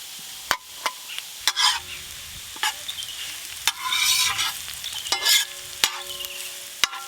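Carrots, capsicum and chopped onion stir-frying in a pan for egg chow mein, with soft sizzling broken by sharp clanks and scrapes of a utensil against the pan at irregular intervals.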